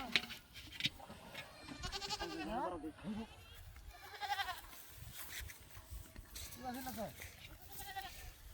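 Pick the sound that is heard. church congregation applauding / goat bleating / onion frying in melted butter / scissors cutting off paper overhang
goat bleating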